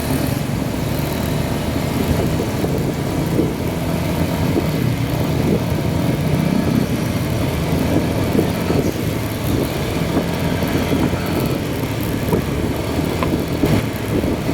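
A motorcycle rides along a road in Kawit, Cavite, its steady mid-pitched engine drone continuing without a break under constant road and wind rumble, near and fairly loud throughout.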